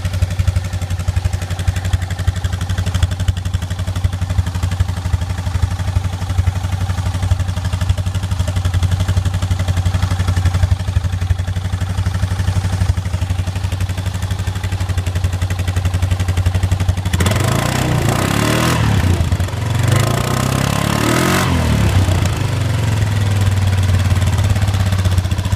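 2001 Polaris Trailboss 325 ATV idling on a cold morning after a muffler fix: a steady, close, low putter with slight clatter, followed near the end by a few short throttle blips.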